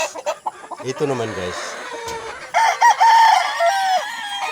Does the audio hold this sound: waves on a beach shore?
no